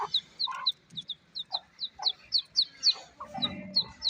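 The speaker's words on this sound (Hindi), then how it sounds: "आपस में लड़ रही हैं मुर्गियाँ" Golden Misri hens cluck in a quick, steady series of sharp calls nearby, with a brief scuffle of low flapping and squawking as they fight partway through.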